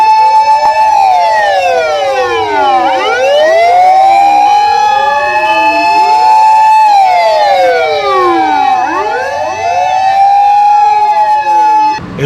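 Wailing fire truck sirens at a Japanese emergency response demonstration, several sirens sweeping up and down in overlapping cycles, loud and continuous throughout with a steady high tone underneath.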